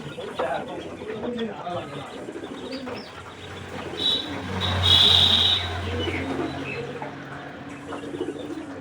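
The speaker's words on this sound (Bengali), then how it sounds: "তো এবার মুরগিগুলোকে নিয়ে" Hens at a backyard coop where pigeons are fed wheat give low clucks mixed with pigeon coos nearby, a steady murmuring flock sound with someone talking over it.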